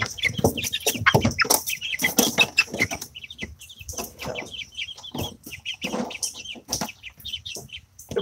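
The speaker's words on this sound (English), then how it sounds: "I think I have Buff Orpingtons." Buff Orpington chickens cluck and chirp repeatedly at close range, a busy, irregular stream of short calls from several birds with no talking.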